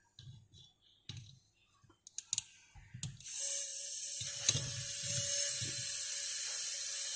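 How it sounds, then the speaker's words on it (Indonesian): Opened refrigerator seal releasing freon refrigerant during a fridge repair: a few sharp mechanical clicks, then a loud, steady gas hiss that runs continuously for several seconds, close up, no voices. "freonnya keluar anginnya"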